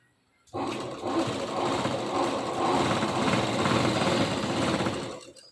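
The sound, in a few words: sewing machine stitching salwar fabric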